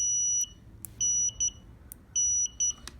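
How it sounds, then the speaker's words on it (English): An Autel AL539 multimeter on continuity mode gives bright, steady electronic beeps in bursts of varying length, some brief and some held for about a third of a second, against a faint low background hum. "if you just touch the two sensors, you'll get an audible tone"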